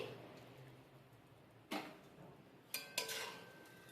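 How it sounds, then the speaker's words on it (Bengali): A metal lid is lifted off a pot of basanti pulao steaming on a low flame, giving a few quiet, sharp metallic clinks and scrapes against a soft, hushed background. "পাঁচ থেকে ছ মিনিট পর আমি ঢাকাটা তুলে দেখে নিচ্ছি"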